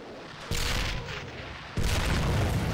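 Artillery bombardment in the World War II strategy game Men of War: Assault Squad 2 at Stalingrad's Mamayev Kurgan: two heavy, loud booming blasts about a second apart, each rolling into a sustained rumble.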